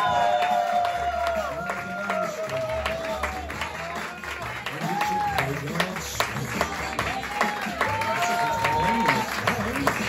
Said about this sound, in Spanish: Quiero un fuerte aplauso para Diego Ramírez